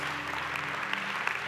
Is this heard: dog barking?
no